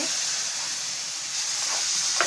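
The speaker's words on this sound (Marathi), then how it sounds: "आता मी ना हे एक वाटी दूध ह्या रव्यात टाकून घेते" Steady hissing sizzle as milk goes into hot roasted semolina for jackfruit sheera, a continuous bright frying hiss with faint stirring sounds.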